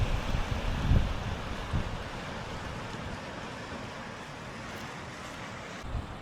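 Atlantic Ocean waves at Ponta da Piedade, a soft, distant wash of surf mixed with wind noise, with a few gentle swells rising and falling, faint and steady.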